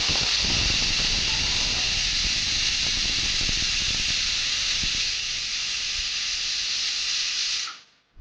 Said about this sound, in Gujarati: કુકરનું ઢાંકણ ઢાંકી અને ચારથી પાંચ વિસલ થવા દેશું